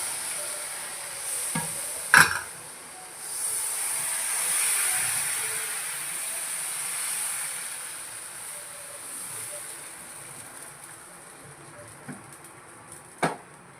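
Appam batter cooks in an appam pan on a lit stove, giving a soft steady sizzle and hiss that swells and fades, with a few sharp metallic clinks of utensils against the pan.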